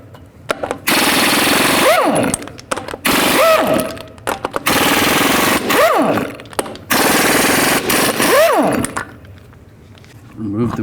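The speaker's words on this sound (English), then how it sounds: "Carefully take these caps off and remove the lug nuts." An impact wrench with a 22mm socket rattles off the lug nuts on a 2002-06 Chevy Avalanche front wheel, five sharp hammering bursts with rising and falling whine, separated by short pauses, loud and close.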